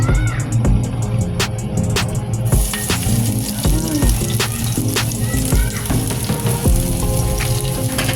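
Garlic frying in cooking oil in a pan for paksiw na pata, a steady crackling sizzle with scattered pops and clinks of utensils, close and fairly loud throughout.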